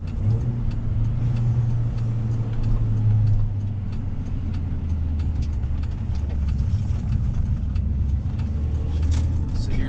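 Mini Cooper S accelerating hard through the gears, a loud steady engine drone heard from inside the cabin, pitch holding through a long pull with no talking.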